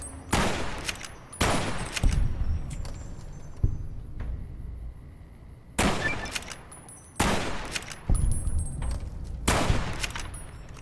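Gunfire in Fallout: New Vegas, modded: a series of loud, sharp shots in irregular bursts, several pairs and singles spaced across the stretch with brief quieter gaps between.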